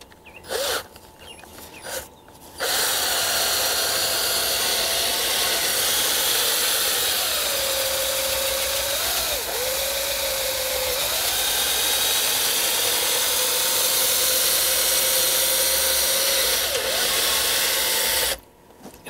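Power drill spinning a cleaning brush through a Harman pellet stove vent pipe: a steady whirring drone for about sixteen seconds with slight pitch dips, preceded by brief clunks and handling noise.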